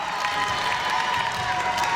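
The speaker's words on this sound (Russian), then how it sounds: "ваши аплодисменты" A university contest audience applauds a contestant with a steady, dense wash of clapping from a hall crowd, unbroken for its full length.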